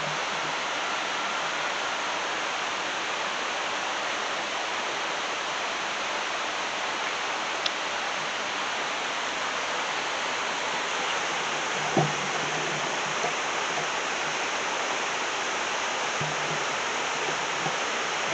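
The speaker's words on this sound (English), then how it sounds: "you can see the water as it comes down. Cascades down quite a bit down to this point." Water cascades at a dam in a constant broadband roar that stays even for the whole stretch, with a faint knock or two underneath.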